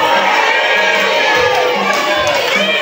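A crowd at a gathering cheers and shouts loudly and continuously, with children's voices mixed into the dense, sustained roar.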